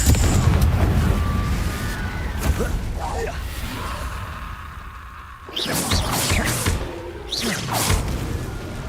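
A Confringo blasting spell fires in the Hogwarts Legacy video game, a loud whooshing burst and boom over a dense game soundscape, followed by sharper bright crackles after a short lull.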